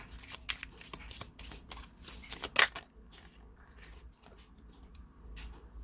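Tarot cards being shuffled by hand, a run of crisp riffling flutters with a sharp peak near the middle, then a softer handling rustle; close and fairly quiet, no talk.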